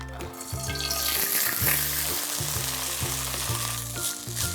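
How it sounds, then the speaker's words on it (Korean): Kimchi fried rice fries in an oiled pan over medium heat, a close, continuous sizzle with light spatula scraping and a faint watery hiss, no talking. "준비된 김치볶음밥을 부어서 골고루 익혀주시면 됩니다."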